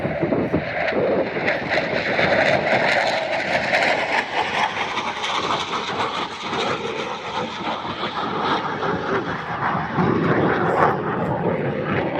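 Vietnam-era military aircraft flying past at the Midland, Texas airshow, a loud sustained engine roar that swells and holds across the whole stretch, heard from the crowd.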